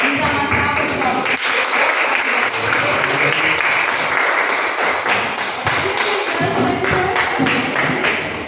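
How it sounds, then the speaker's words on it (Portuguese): Church congregation applauding, a loud steady wash of many hands clapping at close range for several seconds, with scattered voices underneath and a slight fade at the end. "Vamos dar uma salva de palmas."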